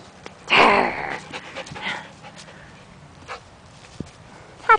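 A happy dog indoors gives a short burst of quick, breathy panting, followed by softer sniffs and small rustles, then a brief sharp knock at the end.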